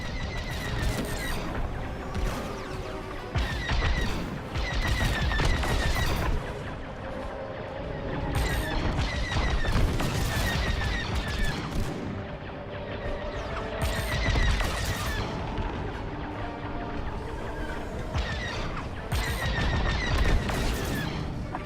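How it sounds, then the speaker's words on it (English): Video game combat with sustained enemy gunfire: rapid automatic bursts and repeated heavy shots pound away continuously for over twenty seconds, loud and dense, with little pause between volleys. "Taking enemy fire!"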